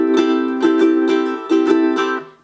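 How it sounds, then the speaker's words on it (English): Freshly tuned brand-new ukulele strummed in bright, ringing chords, several strums in an even rhythm with sustained harmonic tones, close and clear with no voices. "when your ukulele is totally tuned, it should sound something like this"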